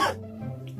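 A single short, close cough bursts out at the start, followed by a low murmur of voice.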